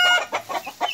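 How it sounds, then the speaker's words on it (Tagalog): Pet backyard chickens cluck in short, close bursts, three or four quick choppy clucks spread across a second, with no talking over them. "ito po yung aking mga manok"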